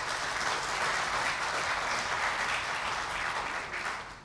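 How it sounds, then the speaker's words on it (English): Audience applauding women footballers at a Ghana Football Association manifesto presentation, a dense, sustained clapping from a crowd that fades slightly at the end. "Let's clap for them."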